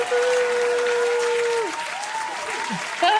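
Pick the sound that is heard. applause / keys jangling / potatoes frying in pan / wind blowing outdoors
applause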